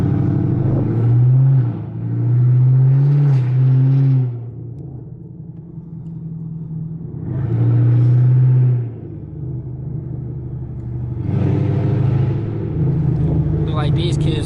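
A Chevrolet Camaro ZL1, just repaired, is driven with manual gear shifts, its engine rumbling and swelling in repeated revs between quieter stretches. Someone talks over much of it.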